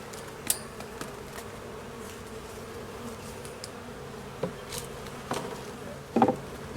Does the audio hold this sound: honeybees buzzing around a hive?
yes